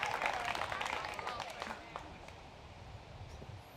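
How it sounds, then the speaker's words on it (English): Scattered applause from spectators gathered at a disc golf hole during a professional tournament round, a broad crackle of clapping that starts fairly strong and thins out, with a commentator's voice running over it. "I'm surprised to hear the 8 holes clap for that one"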